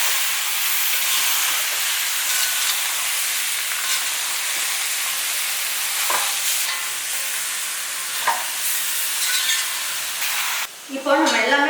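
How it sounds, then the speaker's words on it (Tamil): Kerala pepper chicken masala with powdered spices being stirred and sautéed in a pan, a steady close frying hiss with faint scraping strokes throughout, no talk. "இதுலேயே நல்லா ஒரு வாட்டி வந்து நல்லா கலந்து விட்டு நல்லா வதக்கிக்கலாம்."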